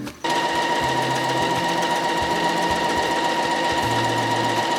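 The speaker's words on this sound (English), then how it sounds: "So we're gonna sew from here all around until here and leave this open." A sewing machine runs steadily, stitching all the way around a piece of fabric in a beginner sewing project, with a close, loud, continuous mechanical whir and no talking.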